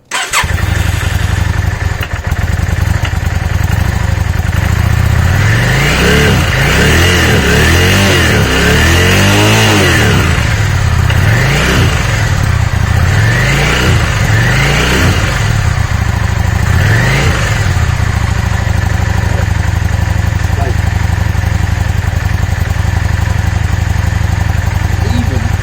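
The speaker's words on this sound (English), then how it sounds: "But we have a working bike." A motorcycle engine runs loudly and close, surging through repeated revs over a rough, steady idle.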